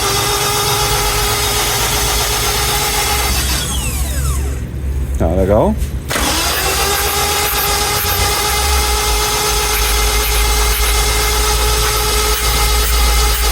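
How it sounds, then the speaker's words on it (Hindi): A 2008 Suzuki Liana engine turns over on the starter with its spark plugs removed, making a steady, close whirring drone. The drone breaks off briefly midway, and a short spoken call is heard. "इसके इंजन के अंदर अभी प्लग्स नहीं लगाए हुए, हम इसको सिर्फ राउंड दे रहे हैं ताकि इंजन ऑयल इसमें पहुंच जाए।"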